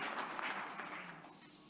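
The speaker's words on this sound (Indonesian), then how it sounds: "Sekali lagi mari kita beri tepuk tangan yang meriah untuk Universitas Muhammadiyah Sumatera Utara" A graduation crowd in a university hall claps in a dense, faint patter that holds steady for a moment and then slowly thins out.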